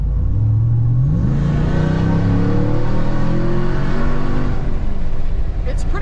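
A Hellcat-swapped Jeep Gladiator 6x6 under full acceleration, its engine note climbing steadily in pitch through a sustained loud rev, heard from inside the cabin with some talking present.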